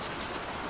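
Steady rain falls in a dense, even hiss with no break or change, with no voices and nothing else heard above it.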